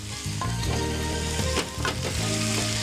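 Boiled pasta sizzles loudly in a frying pan as it is stirred, a continuous crackling fry broken by scraping stirs and a few louder clatters near the middle, with no voices.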